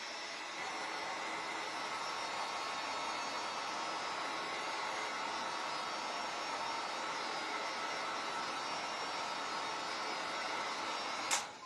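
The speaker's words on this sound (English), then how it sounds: "to speed things up, we're going to go ahead and turn the dryer on" A hair dryer blows a steady, loud broadband rush of air for the whole stretch, drying and curing foam for a handmade bunny hanger, then cuts off with a brief click at the end.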